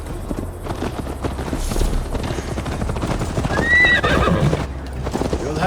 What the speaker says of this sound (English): Mount up, Eivor.